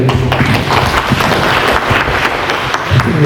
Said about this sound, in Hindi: मैं चाहता हूँ सबसे पहले आप खुद के लिए तालियां बजा रहे हैं